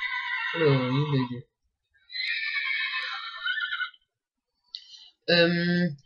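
Minecraft horse from the Mo' Creatures mod neighing in three separate whinnies, each a loud, harmonic, wavering call with pauses between them, heard alone without talk.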